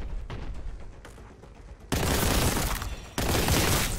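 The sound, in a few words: gunfire in a video game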